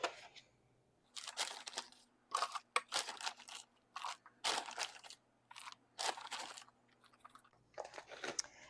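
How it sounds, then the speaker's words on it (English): Potting soil poured and scooped into a cut-open plastic milk jug for winter sowing, a series of crunchy, gritty rustling bursts in irregular clumps, close and fairly quiet, with no talk. "now I'm going to fill up my container with some potting soil"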